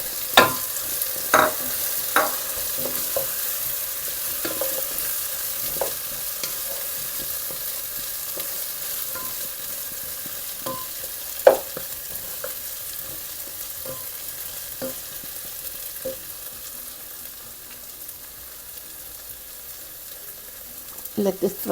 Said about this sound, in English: Now I'm adding in our frozen meatballs.